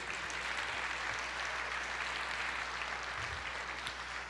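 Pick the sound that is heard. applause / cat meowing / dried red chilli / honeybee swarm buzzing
applause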